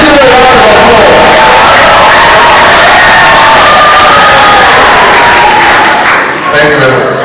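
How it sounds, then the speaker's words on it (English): A loud audience at a photography conference session cheers and applauds, a dense continuous wash of clapping with shouts and whoops rising over it, close and filling the whole stretch. "Please give a round of applause."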